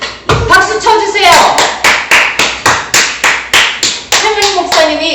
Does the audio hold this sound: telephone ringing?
no